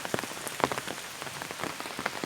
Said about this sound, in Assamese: এই বৰষুণ দিছে